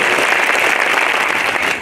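A crowd at a gathering in Kumbhalgarh applauds loudly and steadily, dense close clapping that fills the whole moment without a break, with no speech over it.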